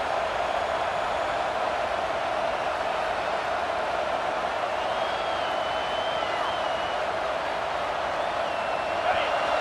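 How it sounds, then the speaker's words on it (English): A stadium crowd in EA Sports College Football 26 roars behind the defense during a red-zone stand, a constant broad wash of cheering with a commentator's voice over it. "The crowd getting behind this defense as they try to get a stop in the red zone."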